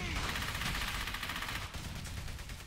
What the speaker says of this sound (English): I want heavy fire on that MG!